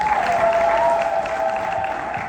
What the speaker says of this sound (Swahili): Mpe Bwana makofi.